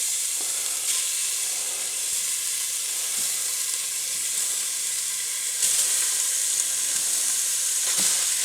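Breakfast sausage fries in a pot, giving a steady, bright sizzle and hiss with occasional soft knocks of stirring, close and even throughout.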